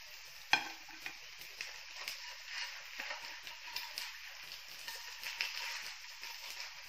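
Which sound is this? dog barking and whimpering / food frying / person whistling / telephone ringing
food frying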